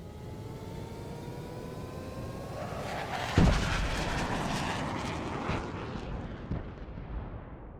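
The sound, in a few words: planet being destroyed as spaceship launches in Starbound video game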